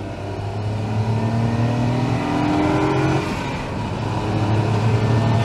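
A Honda S660 kei sports car with a six-speed gearbox revs hard while driving, its small engine buzzing steadily with rising and falling tones, close and loud.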